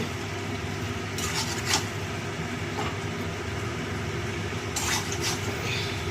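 Potato curry frying in ghee in a pan, giving a steady, close sizzle with occasional scrapes from stirring. There is no talking.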